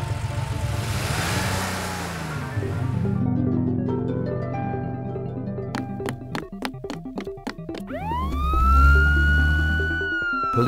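Animated police car siren from a children's street vehicles cartoon, loud and close, a wailing two-tone sweep followed by rapid warbling pulses and a rising whoop, heard alone without speech.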